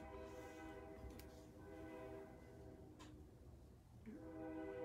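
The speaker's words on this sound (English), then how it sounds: "Can you hear the train?" A train passes with a steady rumble and clatter of wagons, while a horn blares in sustained harmonic blasts that swell and fade, fairly loud and with no talk over it.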